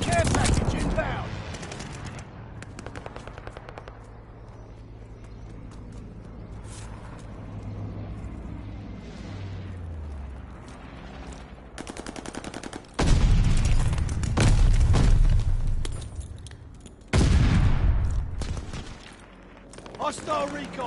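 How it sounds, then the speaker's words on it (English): Allied airstrike explosions in the video game Call of Duty: Vanguard come as heavy, booming blasts in two loud bursts late on, after a stretch of rumbling gunfire and game noise. "Allied airstrike coming in hot."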